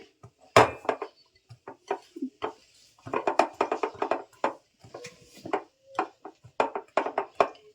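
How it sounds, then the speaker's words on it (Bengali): Cookie dough with baking powder and salt is mixed in a bowl, producing a steady run of close clinks, taps and scrapes against the bowl in irregular bursts. "আমি ভালো করে মেখে নেব।"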